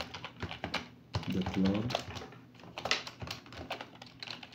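Keystrokes on a computer keyboard while entering code in a Node.js terminal on Kali Linux, rapid clicks in uneven runs heard close up beneath someone speaking.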